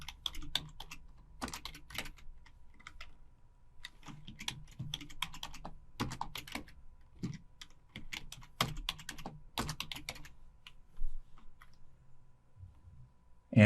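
Keys on a computer keyboard are typed in short bursts while a password is entered, crisp close clicks with pauses between groups, quiet and without speech.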